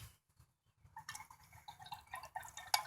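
A standard Hanna pH meter swished around in a liquid sample, giving soft, close splashing and dripping sounds that build after a quiet start and end with a sharper clink near the finish.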